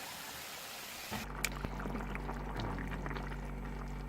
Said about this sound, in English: It's more like boiling.